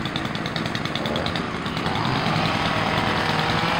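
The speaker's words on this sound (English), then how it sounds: "It's a little bush trimming going on." Engine-driven bush trimmer cutting bushes outdoors, a steady buzzing motor drone with rapid chattering pulses, loud and continuous throughout.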